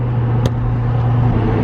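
A truck with a 6.0 engine cruises along, heard from inside the cab as a loud, steady low drone and hum with one brief click, and no talking.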